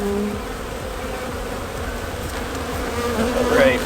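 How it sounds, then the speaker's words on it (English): Honey bees buzz steadily inside an open hive brood box during an inspection, a dense continuous hum that grows busier and louder toward the end, with faint scraping of frames. "Now they're really active. Trying to be as gentle as I can."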